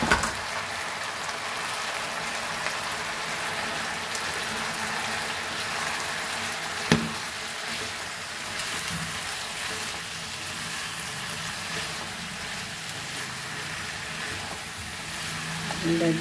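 Onions frying in a pan for a Goan pork trotter curry make a steady close sizzle with soft crackling and an occasional stir or clink, while a person talks over it at times.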